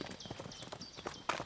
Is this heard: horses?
yes